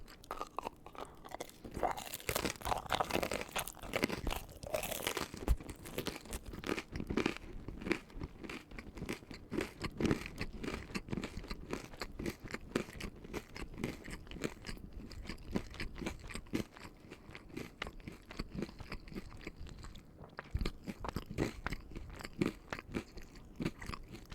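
Mini pizza bagel bites being eaten up close, with steady soft chewing broken by loud, sharp crunches throughout and no talking.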